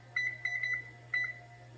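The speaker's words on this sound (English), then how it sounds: "I'll set the timer for" Kitchen timer beeping as it is set, a few short, high electronic chirps in quick succession, then one more after a pause, close and clear over a quiet hum.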